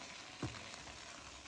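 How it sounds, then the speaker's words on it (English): Chicken stir-fries in oil in a pan for a Tanzanian spicy chicken dish, making a soft, steady sizzle with one brief clatter of stirring; quiet and without talk. "now we are going to stir fry our chicken"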